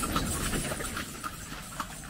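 Horse hooves clip-clop along a road on one of the Gili Islands, where motor vehicles are banned, with a steady run of light, evenly spaced knocks heard at moderate distance over a continuous outdoor wash.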